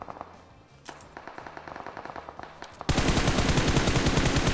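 Rapid automatic gunfire in a PUBG-style battle royale game, first as scattered single shots and short bursts, then a loud sustained stream of rapid shots close by, with no voices.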